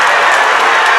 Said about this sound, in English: He's getting some clapping from the Deering side on that move.